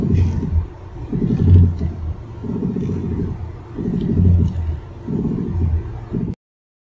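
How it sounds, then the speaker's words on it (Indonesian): Worn ball joint in a car's steering linkage, heard from inside the vehicle while the steering wheel is turned: a low rumbling groan that rises and falls in repeated swells, about five times, then cuts off abruptly. "Mari kita dengarkan suara lain yang dapat terdengar dari dalam mobil saat mengoperasikan roda kemudi."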